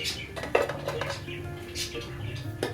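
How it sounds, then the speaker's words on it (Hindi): Potato and aubergine curry being dished out of a pan, with a ladle clinking and scraping against metal in a series of close, irregular knocks over faint background noise. "अब हम इसको डिश आउट कर लेते हैं।"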